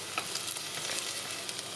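Crushed garlic frying in a spoonful of cooking oil in a pan, giving a soft, steady close sizzle with light crackles throughout and no voices.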